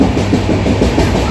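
A Goa passenger train runs on rails, with a steady loud rumble and dense rolling noise throughout, like it is heard from inside a carriage.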